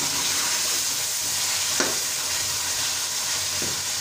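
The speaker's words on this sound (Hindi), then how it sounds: "अभी हम इसमें डालेंगे सब्ज़ मिर्चें। मिर्चों को अच्छी तरह भूनेंगे।" Green chillies frying in meat masala give a steady, close sizzle, with a couple of brief stirring scrapes against the pot and no voices.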